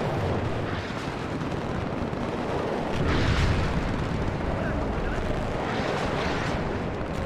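Artillery fire and explosions in a tank combat video game, Leopard tanks against Russian forces, form a continuous rumbling barrage with broad heavy blasts swelling around the middle, loud and sustained throughout.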